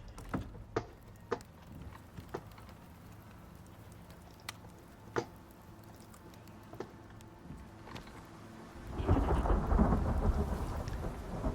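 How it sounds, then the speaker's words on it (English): A flash thunderstorm in the survival game Icarus: scattered sharp cracks and rumbles of thunder over quiet ambience, then heavy rain suddenly pours in near the end, loud and continuous, with no talking. "Oh, another flash storm."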